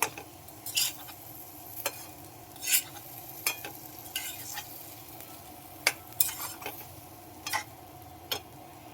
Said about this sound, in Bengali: তো এটাকে আমি এখন মিক্স করব